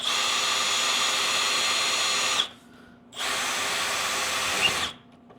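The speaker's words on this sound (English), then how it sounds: "My drill was wandering way too much on that one." A power drill whines steadily into a plastic kayak seat, stops briefly, then drills again for a couple of seconds, close and loud with no talking.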